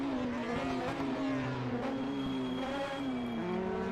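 Engine of Nilsson's racing car heard from onboard during a 1978 DRM race, the ADAC-Westfalen-Pokal: a loud, steady high-revving drone that rises and falls slightly with gear and throttle changes, with no talking.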